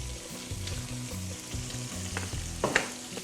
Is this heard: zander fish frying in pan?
yes